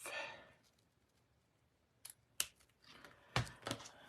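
Scissors snip a length of In Colour boho ribbon during paper crafting, giving a few short, crisp cuts close by, with quiet gaps between them and no talking.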